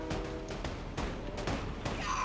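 Rapid gunfire bursts in a video game, several sharp shots spaced across the moment, loud and close.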